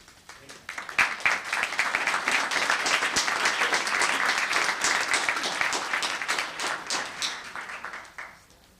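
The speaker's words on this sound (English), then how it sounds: "you're clapping for him before you even heard about him" Audience applause at a Los Gatos town council meeting, building quickly and holding as dense, steady clapping for several seconds before tapering off, close and loud.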